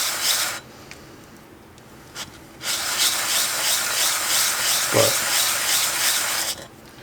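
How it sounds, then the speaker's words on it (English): Wet sandpaper rasps against an engine oil pump part in close, even strokes, stopping briefly in two short pauses before scrubbing resumes steadily. "Oh, sandpaper's not wanting to stick now that it's wet."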